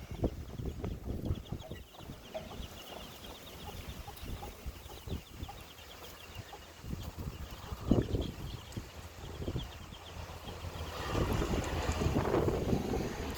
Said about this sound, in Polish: Mam nadzieję, że to Wam nie będzie przeszkadzało i że tak bardzo na filmie nie będzie wiało.